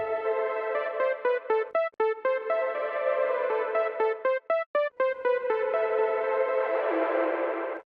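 A melodic synth line of repeated notes plays with an Ableton macro reverb turned up high, each note trailing into a spacey, washed-out tail that swells into a dense smear near the end.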